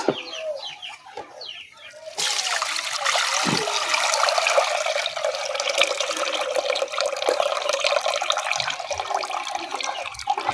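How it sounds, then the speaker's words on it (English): A steady, close rush of blended clove herbal liquid pouring and trickling through a strainer, starting after a few seconds of softer clatter and lasting to the end. "So after blending, let us first sieve this one."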